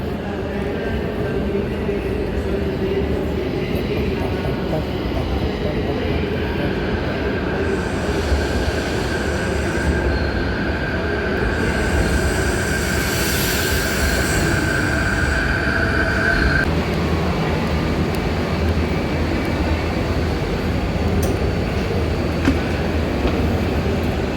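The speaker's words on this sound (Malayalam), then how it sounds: "തരകോണയ്ക്കുള്ള ട്രെയിൻ ഇപ്പോൾ പ്ലാറ്റ്ഫോം നമ്പർ 12 വരുമെന്ന് അവർ അനൗൺസ് ചെയ്തു. ഇപ്പോൾ എത്തുന്നതായിരിക്കും." A train to Tarragona pulls in at platform 12, rumbling steadily close by with a faint rising squeal from the wheels, under constant station noise and murmured voices.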